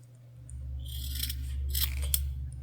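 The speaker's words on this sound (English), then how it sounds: "Now we're going to cut all of our corners" Scissors snip into the corners of a sewn fabric project, giving a few close, crisp cutting bursts over a low steady background hum.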